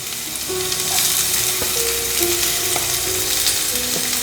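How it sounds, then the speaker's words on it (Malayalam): Chopped onion and garlic sizzle and fry in a pan for pasta, a steady close hiss with occasional stirring clinks and no talking. "അതുപോലെ തന്നെ ഒരു സവാള കട്ട് ചെയ്ത് വെച്ചേക്കണത് ഇടാം."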